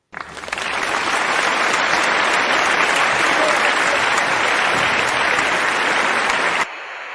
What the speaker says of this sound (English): give you some applause